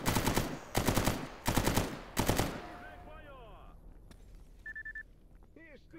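Four loud bursts of automatic gunfire rip out in quick succession in the Stalker GAMMA video game, then fade into quieter background noise with a short electronic beep.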